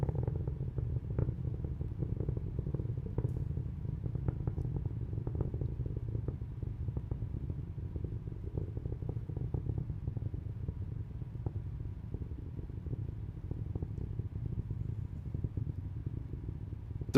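SpaceX Falcon 9 Merlin rocket engines roar during ascent, a faint, distant, steady low rumble with light crackle that holds constant throughout and has no voices over it.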